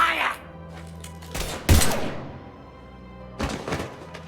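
Gunfire in Mass Effect Legendary Edition: a few sharp bursts and thuds cluster in the middle and near the end, set under a game soundscape with some voice.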